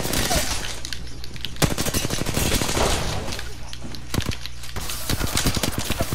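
R99 and R301 bursts in Apex Legends, rapid dense strings of shots fired close and loud in quick succession, with brief pauses between bursts.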